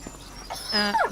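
A dog in the Farming Simulator 25 video game gives one short, faint bark that ends in a whimpering slide, heard alone.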